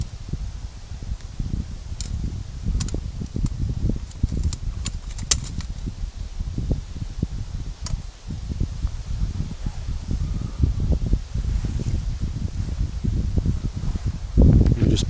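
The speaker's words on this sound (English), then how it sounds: "It's very windy, so we'll see how that does." Strong wind gusts outdoors around a pellet-burning firebox with a boil plate, producing a constant low rushing roar with rustling bursts and buffeting throughout.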